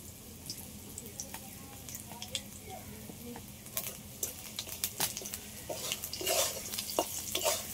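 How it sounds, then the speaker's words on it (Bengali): Black cumin seeds crackle and sizzle in hot oil for tempering in a pan, with sharp scattered pops over a steady hiss that grow busier toward the end, and faint background talk. "এবার আমি একটু কালো জিরে ফোড়নে দিয়ে দিচ্ছি"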